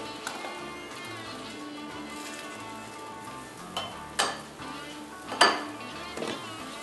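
Pan and utensil clatter as a pancake is flipped over sizzling batter, a few sharp clinks and knocks landing close by near the end over a steady frying hiss.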